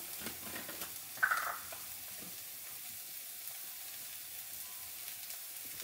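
Dried basil and oregano sizzle in a hot pan, a brief louder crackle near the start settling into a steady, faint hiss with no talking.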